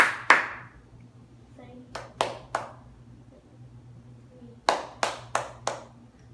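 Hands clap out a counted rhythm: a couple of sharp claps, then groups of three and four evenly spaced claps, close and crisp in a quiet room, with brief pauses between groups.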